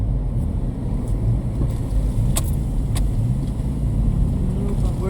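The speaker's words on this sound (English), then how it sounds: "We're idling up it." A Jeep crawling at idle up a rough off-road trail course, its engine a steady low rumble that fills the whole stretch, with faint clicks and knocks from the vehicle over the terrain.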